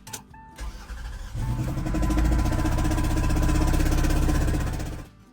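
A customer's car engine with a reported noise cranks over and then roars into a loud, steady run for about four seconds before cutting off, with no talking.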